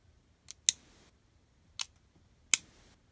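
Sharp plastic clicks from a Takara Tomy Revive Phoenix Beyblade being assembled, three or four separate snaps spread across a few seconds, close and quiet in a still room.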